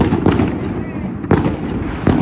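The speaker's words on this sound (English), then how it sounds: "There were some fireworks as well. Oh, there still are. You can probably hear them." Sharp booming fireworks go off outdoors during lockdown, three distinct bursts spaced apart, loud and fairly close, with a voice talking in between.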